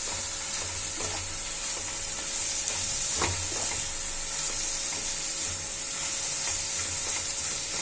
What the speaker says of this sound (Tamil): அதை போட்டு நல்லா வதக்கிக்கலாம்